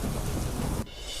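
Heavy monsoon rain pours down during a storm in Gujarat, with a loud, dense roar of rain and low thunder that drops away abruptly near the end of the short burst.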